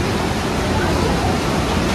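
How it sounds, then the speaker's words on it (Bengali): Hot spring water rushing through a drain beside a Shiva temple near Kasol: a steady, loud, close broadband gushing roar with no break. "এই তলা দিয়ে কিন্তু শুধু ড্রেন দিয়ে গরম গরম জল যাচ্ছে"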